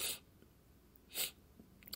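Two quick nasal sniffles from a person with sinus trouble, one at the start and another a second later, soft and close with quiet in between.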